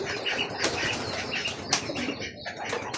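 Racing pigeons flap their wings in a busy flurry at feeding time, steady close fluttering over three seconds with a few sharper wingbeat bursts and faint chirps, no talking.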